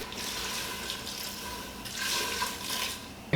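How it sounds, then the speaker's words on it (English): Water poured into a pot of moringa avial curry splashes in a steady rushing stream, close and fairly loud, with a brief stronger gush near the end. "I'm going to add some extra water to that."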